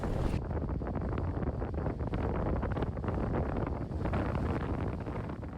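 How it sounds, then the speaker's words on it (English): Strong, very cold Arctic wind on Iceland's coast at Hjörleifshöfði roars and buffets the microphone in a constant, heavy rumble with gusty surges, and no one speaks. "we're getting all that Arctic southerly wind, and it's strong and very cold"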